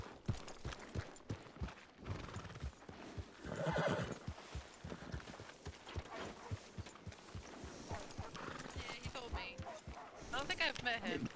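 A horse in a Wild West video game neighs and whinnies while its hooves clip-clop in an irregular rhythm, set among several people talking over the sounds at close range.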